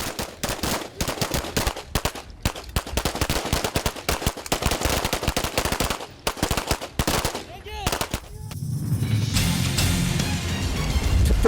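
Rapid gunfire from a naval boarding team's shooting training on a ship, dense bursts of close, loud shots for several seconds, then giving way to steady wind-like roar.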